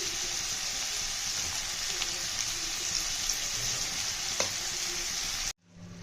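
Tomatoes frying in a pan, a steady close sizzle throughout with faint stirring, cutting off abruptly near the end.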